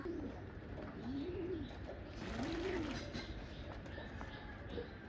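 Pigeons coo in repeated soft, rolling calls as they come to bathe in water, mid-distance over a steady background hum with faint other outdoor noise.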